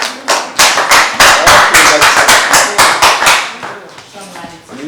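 At a celebration gathering actors and fans of a film, an audience claps rapidly and loudly for a few seconds before the applause thins out and fades.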